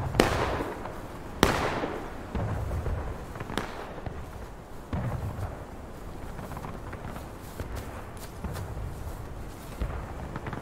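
Reenactors fire a rippling musket volley from right to left, sharp cracks spaced a second or two apart with rolling echoes, some close and loud, others farther and softer.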